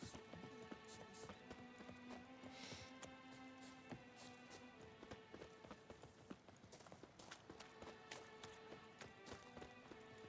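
Horses galloping in a video game horse race, a quiet rapid patter of hoofbeats running on under a busy game soundtrack.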